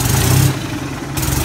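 Golf cart motor at full throttle, a loud close engine-like drone that dips in the middle before rising again, brief and with no talking.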